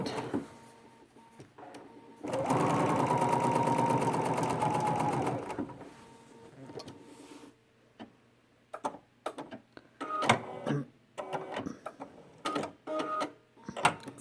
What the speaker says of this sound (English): we're sewing with our needle all the way to the left and we're measuring inside of that toe